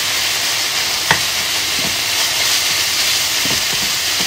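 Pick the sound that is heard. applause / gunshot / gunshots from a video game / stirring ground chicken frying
stirring ground chicken frying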